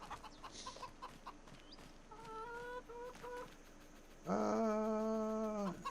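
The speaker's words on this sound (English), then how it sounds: "Let's see how our chickens are doing." Chickens in the farming game Farming Simulator 25 cluck and squawk in short bursts. A louder, drawn-out rooster-like call comes near the end over a low game background.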